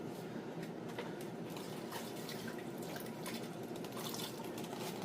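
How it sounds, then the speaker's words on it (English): Steady hiss of water spraying or trickling onto a Farmall 450 tractor's painted surface during wet sanding, continuous and close, with no voices. "just put a little bit of water on there"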